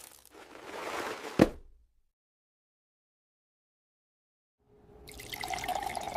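Milk poured into a bowl of cereal in a kitchen: a close liquid pour with a sharp clink, then silence, then a second steady pour that runs to the end.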